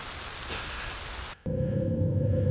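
Steady rain falling on a rainy night, a dense, even hiss that briefly drops out for a moment and then resumes with a lower steady tone mixed into the downpour.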